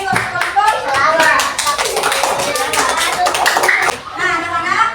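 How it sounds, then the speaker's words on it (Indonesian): A classroom claps for a student group: a burst of many hands in brisk, uneven applause, close and loud, with children's voices mixed in before it fades and briefly picks up again. "Kita beri dulu tepuk tangan yang meriah untuk kelompok 2."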